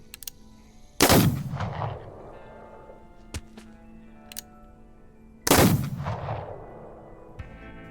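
Two loud, sharp gunshots about four seconds apart in a Call of Cthulhu game session, each with a booming tail that echoes away, with a couple of fainter clicks between them.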